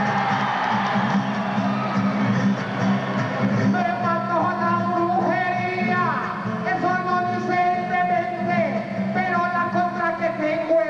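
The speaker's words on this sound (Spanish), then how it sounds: "Tengo es el aplauso de la gente." Audience at a live trova improvised-verse duel cheers and claps, a loud crowd roar at first giving way to shouted voices and whoops over continued clapping.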